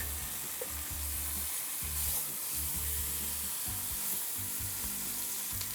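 A beef pot roast sears in a pot on an unevenly heating stovetop burner, making a continuous soft sizzle with low, uneven crackling pulses throughout and no talking.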